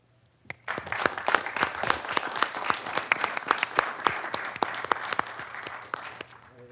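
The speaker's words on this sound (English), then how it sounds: "give you a round of applause to Christiana Care" A city council meeting audience in Wilmington bursts into applause honoring Christiana Care, many hands clapping steadily from a short onset, with some sharper claps standing out, then trailing off near the end.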